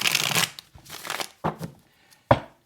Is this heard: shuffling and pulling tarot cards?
yes